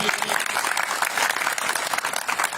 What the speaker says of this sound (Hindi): एक बार आपके लिए ताली बजा दो सब सारे लिए